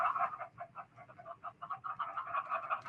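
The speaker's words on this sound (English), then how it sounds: "it's really noisy right now. Oh, with all the chickens." Many chickens cluck continuously in a Minecraft Education game world, a dense, steady chorus of overlapping clucks at moderate loudness with no voices.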